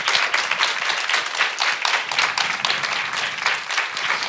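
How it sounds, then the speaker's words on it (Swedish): Steady applause from an audience, dense clapping that carries on evenly without a break. "En applåd."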